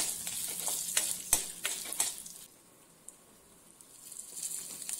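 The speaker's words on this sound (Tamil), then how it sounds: "இப்போ கடலைப்பருப்பு சேர்த்துக்கலாம். இதை ஒரு நிமிஷம் நல்லா வதக்கி விட்டுட்டு" Chana dal sautéing in a pan for vallarai keerai thuvaiyal, with a soft sizzle and several scraping stirs in the first half, then a quieter stretch before the frying rises again, close and fairly faint.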